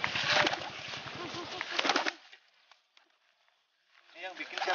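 A pigeon coos in a rice field, soft throaty coos heard near the end after a pause, while someone talks loudly over the first part.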